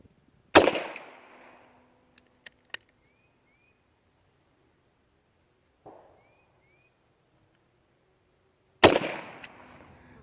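Two sharp, loud revolver shots ring out from a Mosin Nagant 1895 revolver several seconds apart outdoors, each followed by a short echoing tail, with faint clicks and a quieter thud between them.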